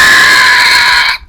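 A person imitates a sheepdog screech with a single loud, sustained, high-pitched screeching cry that holds steady for about a second, then cuts off abruptly.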